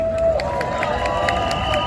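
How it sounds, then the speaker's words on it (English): Crowd at an outdoor pro-Palestinian protest in Leeds giving a short burst of applause and cheering, steady and moderately loud with a whistle-like tone and murmuring voices mixed in. "Everybody, round of applause for John."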